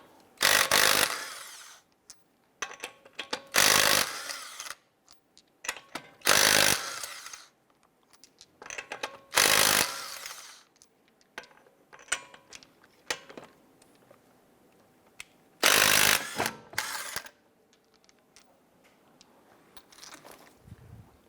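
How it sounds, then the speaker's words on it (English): Impact wrench or power tool loosening car lug nuts with a 19mm socket on a 2012-2017 Toyota Camry, in loud repeated bursts of one to two seconds separated by quieter gaps, with no talk. "Using our 19mm socket, we're going to get loosen and remove our lug nuts."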